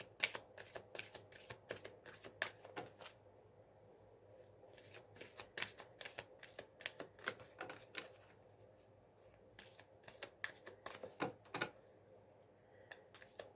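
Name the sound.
shuffling and drawing oracle cards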